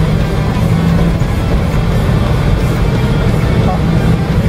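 A four-wheel e-bike at full throttle and top speed gives a steady, loud drone of motor and road noise with no change in pitch, while a person talks over it.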